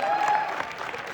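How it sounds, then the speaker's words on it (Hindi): Audience applause at a live comedy or stage event, a short steady wash of clapping lasting about a second, with a faint tone running under its start. "जोरदार तालियां इस लॉयल्टी के लिए"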